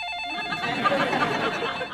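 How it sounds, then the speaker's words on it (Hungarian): A telephone bell rings steadily for about two seconds in an indoor sitcom scene, a bright, continuous metallic trill at moderate loudness with no voices over it. "Tudom, hogy csöng a telefon, mama, én is hallom."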